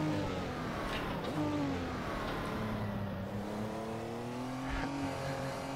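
A custom-made engine sound for the Dino race car in the Targa Florio racing game: a steady, close engine drone whose pitch rises and falls with the revs, running the whole time with no talking.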